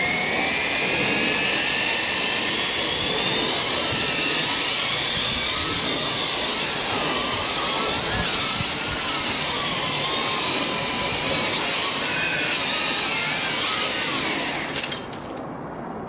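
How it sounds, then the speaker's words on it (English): An MJX X101C quadcopter drone whines with a loud, sustained high-pitched buzz from its four motors, steady and close for about fifteen seconds before cutting out near the end. "As you'd expect with 4 motors, it can be quite noisy."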